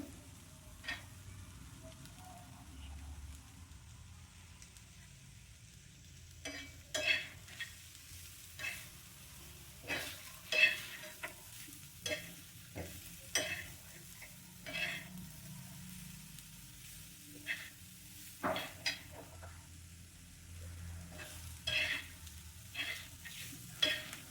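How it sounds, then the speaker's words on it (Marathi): Masala and coconut roasting in a pan, a quiet low sizzle punctuated by a series of distinct spatula scrapes and taps at an irregular rhythm. "हे बघा, आपला मसाला भाजून झाला आहे. थोडा ब्राऊन झाला आहे."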